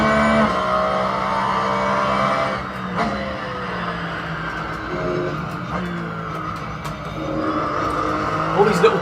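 Race car engine in the Assetto Corsa video game on Xbox One X, a sustained droning whine with gear changes and tire squeal, played back under someone talking.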